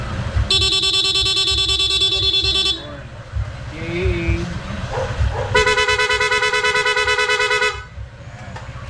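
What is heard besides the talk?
motorcycle dual horn in rapid mode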